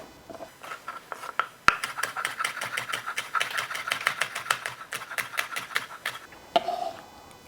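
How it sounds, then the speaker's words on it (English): Rapid, evenly spaced knife chops dicing seeded vegetable into small pieces on a cutting board for a Mexican seafood cocktail, crisp and close, a steady run of taps with a few sharper knocks at the start and end. "Now we can dice these into some nice small pieces."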